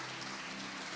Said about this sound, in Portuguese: Alguém pode aplaudir a Deus pela vida deles?